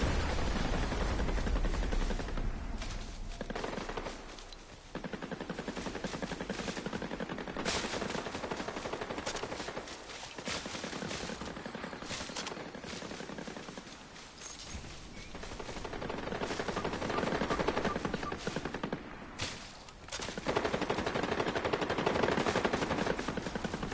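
Sustained gunfire in the Fortnite video game, dense automatic bursts and repeated shots rolling on for many seconds with brief lulls, loud and continuous throughout.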